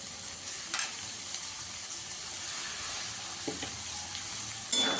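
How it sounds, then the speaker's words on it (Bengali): Carrots and beans stir-frying with chicken in a pan for chicken fried rice, giving a steady close sizzle and hiss with a few brief scraping stirs. "এবার এই গাজর আর বিনসটা দিয়ে দেবো।"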